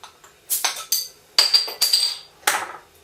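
A beer bottle is worked open with a butterfly opener, giving a series of sharp metallic clicks and clinks in irregular bursts, close up and with no talking.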